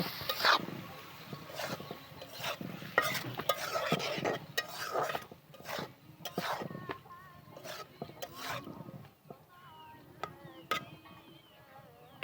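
Freshly picked eggplants going into a fish curry in a hot pan at night, with irregular scraping stirs and clinks of a spoon against the pan over a faint sizzle, close and fairly quiet, no voices.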